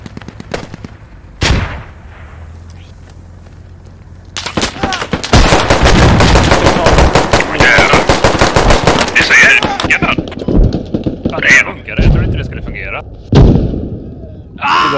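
Gunfire in the military shooter game Squad: single shots, then long rapid automatic bursts and heavy blasts, loud and close, with players talking between volleys.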